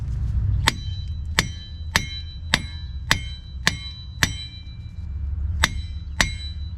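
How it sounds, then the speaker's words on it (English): Metal hammer blows ring out against a car steering knuckle, nine sharp clanging taps spaced about half a second apart with a short pause before the last two, close and clear with no talking. "tap it with the hammer"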